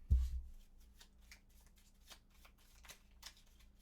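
A deck of Gloomhaven board game cards being shuffled by hand, with a soft thump and then a run of quick, light riffling and card flicks close by.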